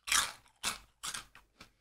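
Crunching on paprika-flavoured puffed crisps from Lidl: four close, crisp bites and chews in a steady rhythm, the first loudest, each a short dry crackle with brief pauses between.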